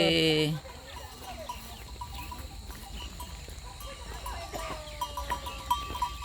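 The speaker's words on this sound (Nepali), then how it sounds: "साथीहरू गाउँको सम्झना गर्दै बाख्रा धपाउन थाले" Several goats bleat intermittently at a distance as they are herded toward their pen in a village at dusk, over a quiet outdoor background, with a short loud burst of noise at the very start.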